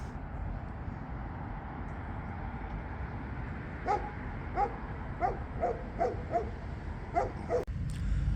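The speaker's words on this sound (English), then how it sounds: "it's a great big Alsatian" Great big Alsatian barking at a distance during a town-centre stealth camp, a string of short faint barks over a steady low rumble of background noise, ending with a close thump.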